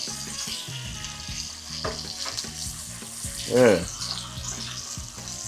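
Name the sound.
bacon frying in a pan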